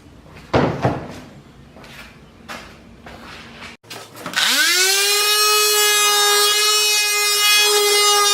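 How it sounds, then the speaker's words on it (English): Hand taps and knocks on wood are followed by a power sander starting up and whining steadily and loudly, smoothing the edges of a wooden robot sumo table. "we'll go ahead and just sand these edges, smooth it out so nobody gets any splinters."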